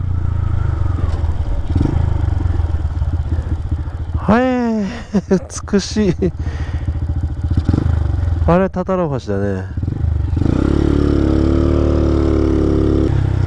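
A Honda Grom motorcycle engine idles and rumbles steadily throughout while people talk over it, their voices rising above the engine noise, on a mountain road lined with cherry blossoms.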